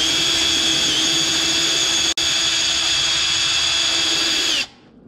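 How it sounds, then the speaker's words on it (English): A power drill whines loudly and steadily up close while drilling a half-inch-deep hole for a surf fishing rig, dipping for an instant midway before spinning on, then winding down at the end. "I'm going to drill down a half an inch"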